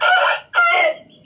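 An eleven-month-old home-bred Aseel rooster, a pure Pakistani cross, lets out a loud close crow in two strong bursts, the second trailing off into quiet.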